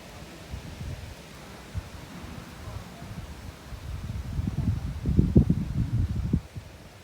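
Wind gusts outdoors in autumn, rustling falling leaves and building to louder bursts toward the end before easing off.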